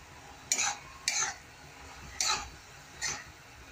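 A spoon stirs crushed peanut powder with garlic into spring onion sabzi cooking in a pan, giving four sharp scraping strokes spaced about a second apart, close and fairly quiet, with no talking.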